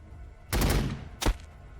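Gunfire from Warhammer 40K: Battlesector: a loud, dense burst of shots about half a second long, then a second, sharper blast after a brief pause, with no talking.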